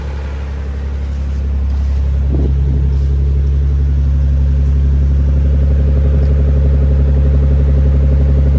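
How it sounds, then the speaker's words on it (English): A 1990s Nissan 300ZX twin-turbo VG30 V6 idles a little high on a cold start, steady with a low, constant hum and rumble, close by, with a slight rise in level early on and no talking. "it is working on cold start, but the engine is a little hot, idling a little high"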